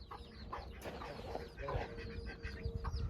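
Hens and chicks cluck and cheep around a rural home, a busy overlapping chorus of short calls close by, with some household noise in the background.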